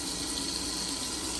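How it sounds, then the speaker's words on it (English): Tap water gushes steadily into the clean water tank of a Bissell CrossWave Pet Pro wet-dry vacuum, a close, continuous filling rush with no talk. "So she fills it up with water."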